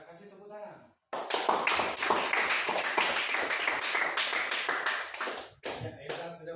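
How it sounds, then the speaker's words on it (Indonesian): A seventh-grade Indonesian class bursts into dense, sustained hand clapping for several seconds, loud and close, with a voice speaking just before it starts and again as it stops. "Ya, kasih tepuk tangan."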